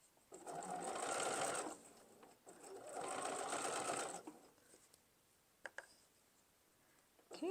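A sewing machine back stitches quilt binding in two sustained bursts of fast, close whirring with a short pause between them, followed by a few faint clicks.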